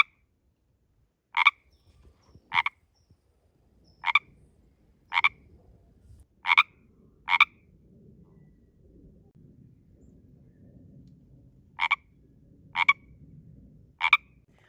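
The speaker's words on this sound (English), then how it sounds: "he ribbits all night" A garden frog croaks at night in sharp, loud pulses, around nine calls in irregular pairs and singles over a faint background hum.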